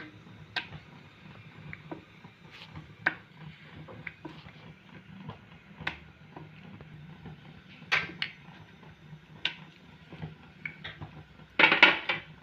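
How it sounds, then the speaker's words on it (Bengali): Luchi dough made with potato, semolina and masala being rolled out on a board with a rolling pin, producing scattered light taps and clicks over a quiet background, ending in a louder clattering burst. "এবার আমি বেলে নেব যেভাবে আমরা লুচি বেলি ঠিক সেইভাবে"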